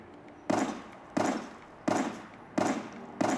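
Video game gunfire played from a Steam Deck through a Razer Leviathan V2 X soundbar, five evenly spaced sharp bursts, each decaying quickly, moderately loud with a quiet gap between shots.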